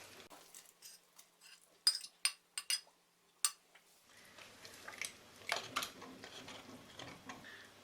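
Pieces of boned meat are dropped into a pot of pea soup, giving a series of sharp clinks and taps, then softer splashing and knocking against the pot at close range, with no talking.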